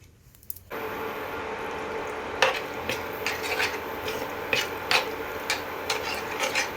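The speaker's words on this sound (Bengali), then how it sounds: "ময়দা বা কর্নফ্লোর যা থাকে আপনাদের কাছে এটার মধ্যে মিশিয়ে দেবেন আমিও তাই দিলাম" A utensil scrapes and stirs flour slurry into thick gravy in a pan, giving a soft continuous hiss broken by repeated sharp scraping strokes, close up with no talking.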